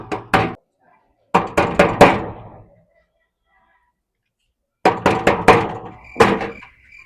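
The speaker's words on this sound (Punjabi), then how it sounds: "ਕਿਉਂ ਐਡਾ ਉੱਚੀ ਉੱਚੀ ਬੂਆ ਖੜਕਾਉਂਦਾ ਪਿਆ?" A wooden door takes loud knocking in three separate bursts of rapid heavy raps, each a quick group of three to five blows with pauses between.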